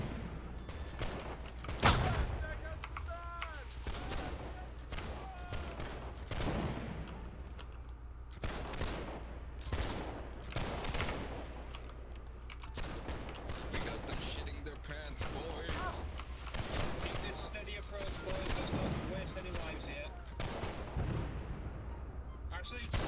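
Musket volleys and artillery booms in the video game Holdfast, sharp repeated blasts scattered throughout alongside a loud constant rumble, with people talking over the battle.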